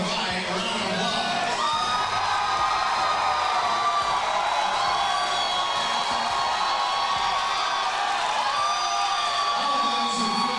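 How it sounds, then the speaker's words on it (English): Crowd at an Elevate Fighting Championship mixed martial arts event cheers, whoops and applauds in a sustained, loud roar with high shouts and whistles throughout. "All those who feel like Thomas Ruiz won the fight, round of applause."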